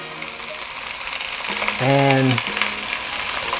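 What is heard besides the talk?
a pound of sausage frying and being scrambled in a pan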